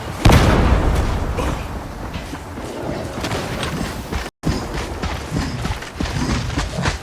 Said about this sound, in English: Barrel is about to detonate!